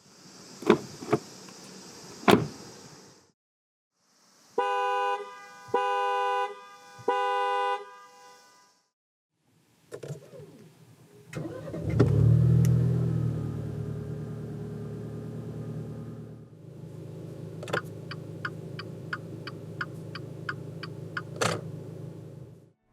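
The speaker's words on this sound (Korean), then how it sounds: "잠시 뉴 기블리 하이브리드가 들려주는 감성 측면의 소리를 들어보겠습니다" Several short electronic chimes and beeps sound, then a 2022 Maserati Ghibli Hybrid engine starts and settles into a steady low idle with a soft whir.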